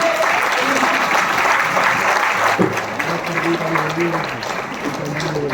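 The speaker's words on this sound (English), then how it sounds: "A huge round of applause for him." Sustained audience applause fills the space, dense clapping from a large crowd with a voice faintly audible underneath.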